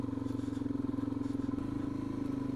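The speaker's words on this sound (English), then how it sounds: "there's a lot of uninsured, stolen motocross bikes get to ride around these tracks" A motocross bike engine runs steadily on a dirt track, a continuous buzzing drone with a slight shift in pitch partway through, moderately distant and without talk.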